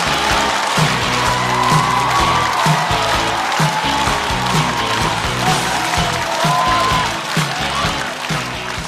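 Studio audience at a stand-up comedy show applauding and cheering as a comedian is welcomed to the stage, a dense, loud and steady wash of clapping with whoops running throughout.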